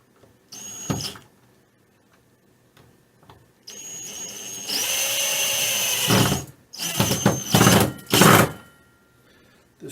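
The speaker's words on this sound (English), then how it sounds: "This is a particle board type material, and you just screw these down like so." A cordless power drill drives screws into particle board for a cake armature, with several whirring bursts that rise and stop, one long sustained run, and quiet pauses between them.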